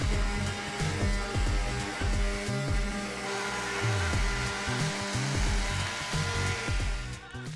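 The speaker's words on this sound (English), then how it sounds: "now I'm just going to quickly sand off the little giblets from cutting and sand the cut edges" Power sander smoothing the cut edges of a handmade wooden Christmas gift for grandparents, a steady loud whirring drone with shifting pitch as the tool works the wood, running continuously alone.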